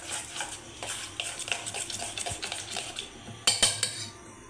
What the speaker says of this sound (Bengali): আমি বেসনটাকে ভালো করে ফেটে নেব